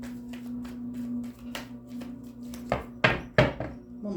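Tarot cards shuffled by hand, a few soft riffles and then sharper slaps toward the end over a steady low hum, with no talking.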